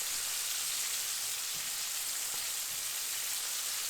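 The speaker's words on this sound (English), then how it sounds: "they're just on the second fry now" Shredded chicken pieces crisping on a second fry in hot oil, a steady dense crackling sizzle that stays even and fairly loud throughout, with no talk.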